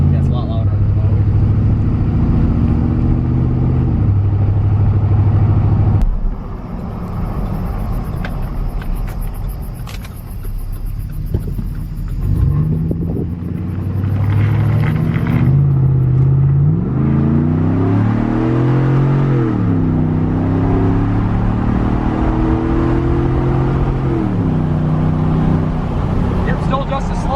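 A 2011 Chevrolet Silverado with a Stainless Works cat-back exhaust drives with the windows down, its deep engine drone rising and falling through gear changes, loud and steady from inside the cab.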